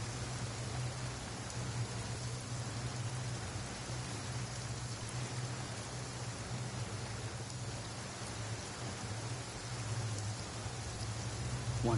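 Steady video-game rain hisses evenly throughout, a soft, constant wash over a low droning hum, with no voices.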